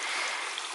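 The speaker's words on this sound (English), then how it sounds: "This stream is actually the trail." Water flows as an even, hissing rush along a rain-swollen stream that serves as a hiking trail, steady and close throughout the brief moment.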